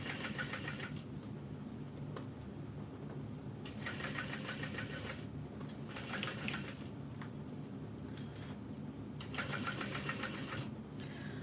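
A sewing machine stitches along a seam line and back stitches, running in bursts of steady mechanical whirring that start and stop several times, fairly close and alone with no talk.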